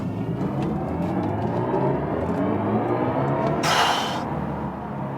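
A BMW i4 M50 electric sedan accelerates hard in sport boost mode, a rising synthetic whir over steady road and tire rumble heard from inside the car, with a brief burst of noise near the end.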